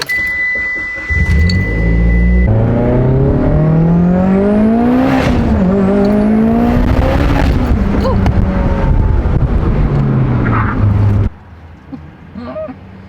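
A 2022 Subaru BRZ drives off and accelerates, loud and close, its engine note rising through several gear changes before dropping to a quieter idle near the end.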